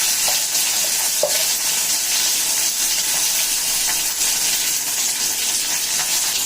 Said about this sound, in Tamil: நல்லா கடுகு பொரியட்டும்